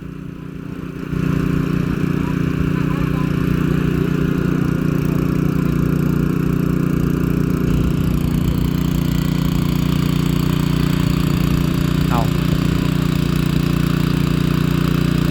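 An engine-driven water pump draining a pond in a field sputters into life, then settles into a loud, steady, droning chug that runs on without pause, with no one speaking.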